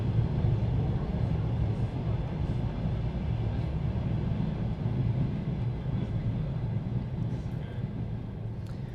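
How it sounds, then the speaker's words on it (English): A long train rumbles past at a steady low level, with continuous droning and clattering lasting the whole stretch and no clear start or end. "It's a long one, long train."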